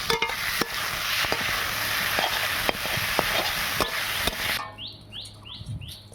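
Leafy greens fry in a pan with a steady broadband sizzle and occasional stirring clicks, close and fairly loud; near the end the frying fades and faint bird chirps come through.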